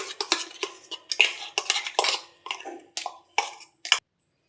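A metal spoon scrapes and clinks against a bowl in quick, uneven strokes as green chutney is spooned out, about a dozen close, crisp taps and scrapes before stopping.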